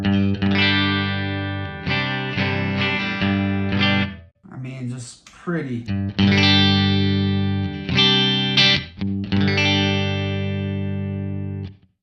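Electric guitar runs through a Twin Reverb amp capture from STL Tones with Vintage 30 speakers, playing sustained chords and picked phrases with a short pause midway, while a voice speaks briefly over the playing.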